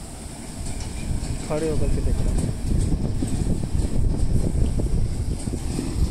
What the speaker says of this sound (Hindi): ट्रैक्टर आ रहा है